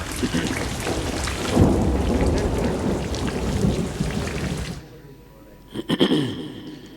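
Heavy rain with rumbling thunder, a dense loud downpour that cuts off abruptly and is followed by a brief crackling thunder burst.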